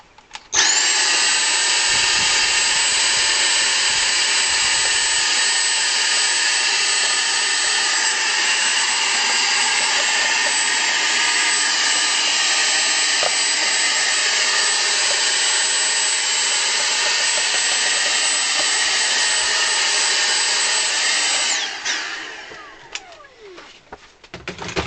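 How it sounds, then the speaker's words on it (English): A small vacuum cleaner running on turbo mode while cleaning a Silvio Soprani 48-bass accordion whines loud and steady for about twenty seconds, then switches off and spins down, followed by faint handling noises. "I've got a little vacuum cleaner as well. Put it onto turbo mode."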